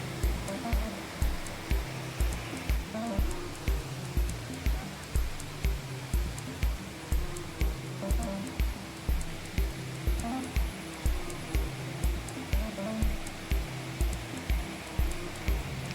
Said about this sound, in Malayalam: അണക്കെട്ടിൽ നിന്നുള്ള വെള്ളം ഇങ്ങനെ പോകുന്ന അതിമനോഹരമായ കാഴ്ച